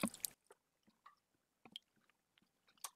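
Close, wet chewing of a lunch meal, with soft squishy bites and mouth sounds in irregular bursts separated by quiet gaps, opening with a brief loud noise.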